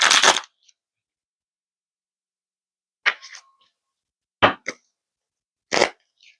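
Tarot cards being shuffled by hand during a reading, in four short, crisp bursts of riffling separated by pauses of silence.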